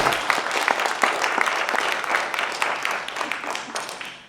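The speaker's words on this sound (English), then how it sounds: "So give yourselves all a round of applause" Community members at a public engagement meeting in Valemount, BC give a round of applause; a short burst of distinct hand claps from a modest group, fairly close, fading out after about four seconds.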